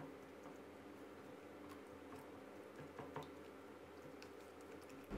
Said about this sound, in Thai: เดี๋ยวเรายีเนื้อปลาทูให้เข้ากับน้ำยำเลยนะครับ